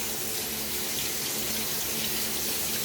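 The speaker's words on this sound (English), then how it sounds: "And I just wash them really good, and just rinse them really well." Fruit is rinsed under a running kitchen tap, a loud, steady rush of water splashing into the sink without pause.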